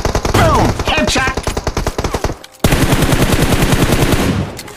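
Rapid automatic gunfire in a battle royale shooting video game, loud bursts of fast repeated shots close by, a brief pause, then another long sustained burst.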